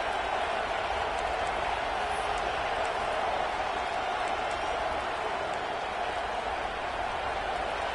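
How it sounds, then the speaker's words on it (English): A stadium crowd in the college football video game CFB 26 roars as a dense, steady wash of cheering that never lets up, loud and continuous without a break. "This crowd ready to make its presence known."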